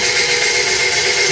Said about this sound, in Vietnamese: Đây là khoan gỗ nè, khoan gỗ thì quá dễ thôi đó, khoan gỗ là đơn giản lắm.